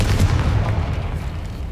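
A Confringo spell explodes in Hogwarts Legacy with a dense, rumbling low blast that lingers and slowly fades across the whole moment.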